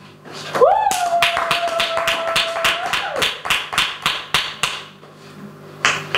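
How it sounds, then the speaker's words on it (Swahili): A church congregation clapping their hands for Jesus, heard as a run of sharp, fairly close, evenly spaced claps that thin out toward the end, with a brief sung tone near the start. "Tupigie Bwana Yesu makofi kwa neema aliyotupa"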